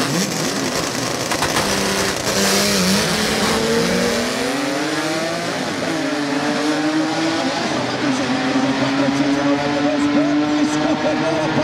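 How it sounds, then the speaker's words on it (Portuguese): Rear-wheel-drive street race cars roar around the Velopark circuit, several engines revving and rising in pitch as they accelerate past, loud and continuous, with a commentator talking over the racing. "Para tremer o asfalto, street tração traseira na pista do Veloparque."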